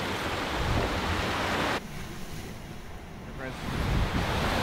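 A sailing boat runs at sea in 20-25 knots of wind among atolls, with loud rushing wind buffeting the microphone and waves washing past the hull, easing briefly before surging again.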